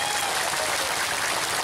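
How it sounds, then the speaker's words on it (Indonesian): Audience applause at a live Islamic sermon gathering in Gunosari, Tlogosari, Bondowoso, a steady wash of many hands clapping, fairly loud and continuous through the brief moment. "Masya Allah. Tepuk tangan."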